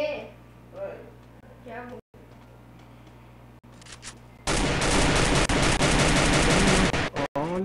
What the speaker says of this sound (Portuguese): Olha só, muito tiro ali no carro.